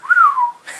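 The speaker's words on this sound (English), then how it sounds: "He also has a key fob with whistle triggers." A single short, clear whistle from a key fob gadget that rises then slides down in pitch, followed by a brief breathy hiss.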